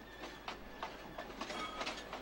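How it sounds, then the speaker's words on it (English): A train rumbles along the main line at a distance, with faint rhythmic clickety-clack of wheels over rail joints and no voices. "That's the other train right there that arrived up the main."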